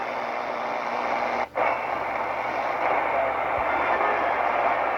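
Static noise comes from a Tecsun PL-330 shortwave radio on its built-in antenna during a band scan, a steady hiss with one brief dropout partway through.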